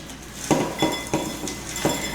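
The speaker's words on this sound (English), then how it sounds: "I'm just dusting the pan with the crumbs." Cheesecake pan being dusted with crumbs for a ricotta cheesecake in a home kitchen, heard as four distinct metallic clinks and taps of the pan at a steady spaced rhythm, close and fairly quiet.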